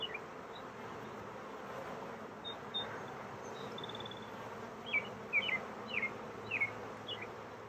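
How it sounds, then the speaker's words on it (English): A captured honeybee swarm buzzes steadily in an outdoor setting, a dense continuous hum with individual bees zipping past close by in brief louder passes toward the end. "You can see how many bees are on and in this thing."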